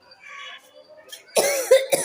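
A faint voice murmurs briefly, then two or three sharp, close coughs from a person with a cold break out in quick succession.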